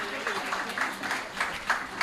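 Applause from a seminar audience for a panel of speakers, a dense wash of clapping hands heard beneath someone speaking over it.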